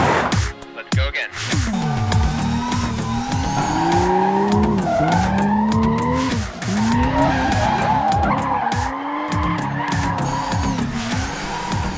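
A Toyota car drifting autonomously on a track, its tires squealing and skidding in long wavering bursts over a revving engine, loud and close, with brief voices in between.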